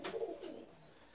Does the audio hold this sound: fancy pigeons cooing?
yes